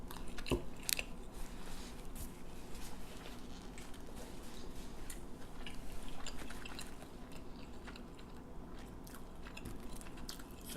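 Close-up biting and chewing of a Greek food meal with tzatziki sauce, wrapped in paper, a sharp crunch near the start, then steady moist chewing and faint crinkling throughout.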